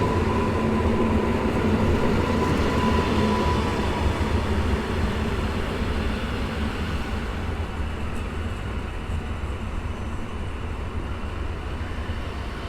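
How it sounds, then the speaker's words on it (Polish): An EN57 commuter electric multiple unit of Koleje Mazowieckie, running from Skierniewice to Warszawa Wschodnia, passes a station platform with a steady rumbling roar that slowly fades. "en 57 AKM Kolei Mazowieckich i to jest pociąg ze Skierniewic do Warszawy Wschodniej"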